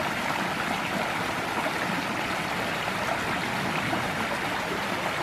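A woodland creek flows steadily, giving a continuous, even rush and babble of water close by, with no voices over it.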